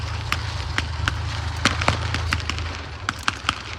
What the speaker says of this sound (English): The firefight's still going on